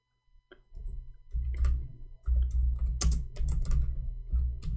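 Fingers type on a computer keyboard in several quick bursts of close, dry key clicks, with short pauses between runs and no voices.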